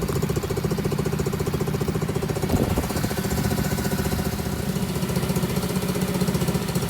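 A 1977 Honda CT70 fitted with a Lifan 125cc engine idles at close range, a steady, rapid mechanical chugging that holds an even rhythm with no one talking.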